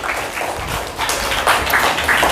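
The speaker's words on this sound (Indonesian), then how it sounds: "Tepuk tangan untuk kelompok 1." A classroom group applauds a correct answer with brief, fairly close clapping that lasts a couple of seconds.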